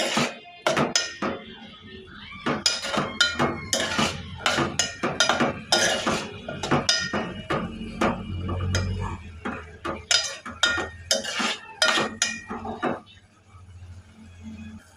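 Potato and chickpea curry stirred in a pan, with a busy run of close, repeated scraping clanks and clinks of a spoon against metal that continues for most of the stretch before briefly easing off at the end.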